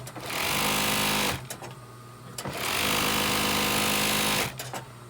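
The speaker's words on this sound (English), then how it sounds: "I have an overlock machine which does this." An overlock machine finishes the fabric edges of a hospital mask, running in two loud, sustained whirring bursts with a short pause between them and a brief restart at the end.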